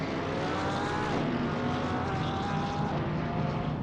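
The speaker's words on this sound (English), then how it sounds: "if they can hear us over the sound of the cars" Race cars driving at an auto racing event, the 2023 Caribbean Invitational, Brazil vs The Caribbean: a steady, loud engine drone with shifting whining tones held throughout, no speech.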